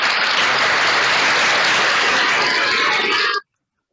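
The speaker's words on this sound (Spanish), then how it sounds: "Aplausos nuevamente para" Loud, dense applause from an audience at a Spanish-language ceremony honouring top students in the César Vallejo migratory grades, a steady wash of clapping that cuts off abruptly near the end.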